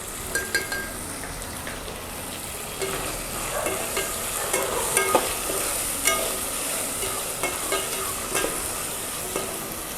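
Green chillies and tomato with turmeric fry in a pan and get stirred, a steady sizzle running throughout with repeated scraping and clinking of a spoon against the pan, close and fairly loud.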